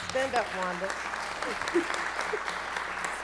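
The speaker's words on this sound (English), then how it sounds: "Let us give her a round of applause." Audience applause at a Durham city council meeting, a steady patter of clapping throughout, with someone speaking over it near the start.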